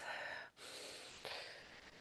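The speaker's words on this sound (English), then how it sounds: "So let's take a breath." A single slow, deep breath taken in quiet, close and soft, a drawn inhale followed after a brief pause by a long airy exhale.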